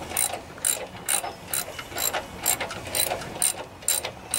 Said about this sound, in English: Time to get these motor mount bolts in.